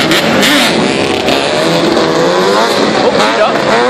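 Motorbikes at a bike-life street ride rev hard and race past, a loud continuous engine roar with rising and falling pitch, with people talking over the noise.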